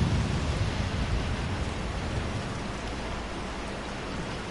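Steady heavy rain pours in Resident Evil 4, a dense continuous hiss with a low rumble underneath, even in level and with no voices.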